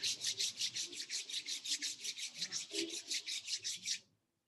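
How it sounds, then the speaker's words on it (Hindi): Palms rub together briskly in a steady back-and-forth rhythm, about twenty close, dry swishing strokes in quick succession before stopping abruptly. "फिर से रब कर लें।"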